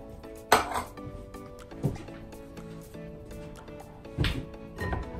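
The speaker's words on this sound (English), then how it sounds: "Stir it up. Mix, mix, mix." A spoon stirs rice and peas with kidney beans in a metal pot, giving irregular clanks and scrapes against the pot with a low sizzle underneath.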